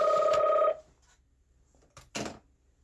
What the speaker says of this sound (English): Sorry, I do still have a house phone.